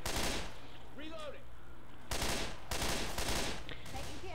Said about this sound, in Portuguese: Toma esse tiro na cabeça.